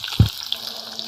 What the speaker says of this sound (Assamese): মাছ ফ্ৰাই কৰি আছোঁ।